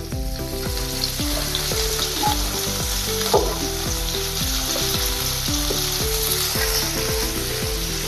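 Four chopped onions fry in about half a spoon of oil for aloo do pyaza, producing a loud, close, continuous sizzle that stays even throughout.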